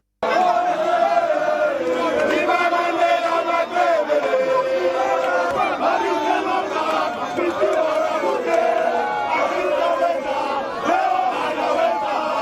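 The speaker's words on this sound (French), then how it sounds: "ses administrés qui ont envahi les abords de l'aéroport, chantant et dansant pour elle et pour le chef de l'État Félix Tshisekedi" A large crowd outside an airport sings and cheers in chorus, loud and sustained, with voices chanting together throughout.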